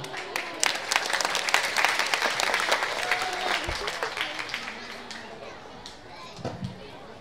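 An audience at a Balinese Legong Semara Dahana dance performance in Peliatan, Ubud, applauds warmly, steady clapping with some children's voices and crowd chatter mixed in, fading slightly toward the end.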